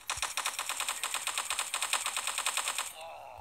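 A rapid, evenly spaced burst of full-auto assault rifle fire from the mobile shooter Guns of Boom runs close and loud for about three seconds, then cuts to quieter game ambience.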